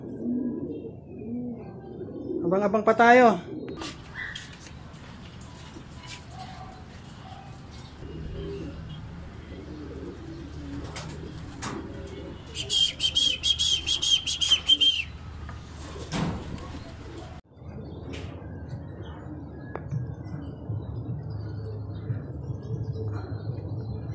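Racing pigeons coo softly nearby amid a low background rumble, with a short burst of high chirping and a few brief spoken words.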